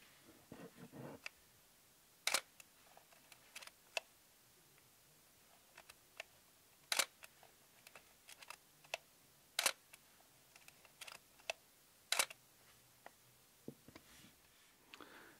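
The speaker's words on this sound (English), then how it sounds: "see what the shutter sounds like now." A film camera's shutter firing repeatedly in a quiet room, sharp mechanical clicks spaced a few seconds apart, some louder than others, with soft handling ticks and fiddling in between.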